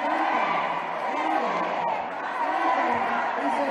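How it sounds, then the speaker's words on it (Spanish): A crowd at a political gathering in Mexico City cheers and claps amid mariachi music, a steady wash of voices and applause with brassy melodic lines running underneath. "al son del mariachi y entre vivas y aplausos"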